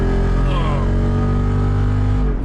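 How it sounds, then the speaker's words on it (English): A Jeep Wrangler 392 V8 towing a fully loaded trailer, its engine roaring loud and steady under hard acceleration, a deep rumble with rising tones, close and continuous. "you've never had a Jeep that made a sound like that"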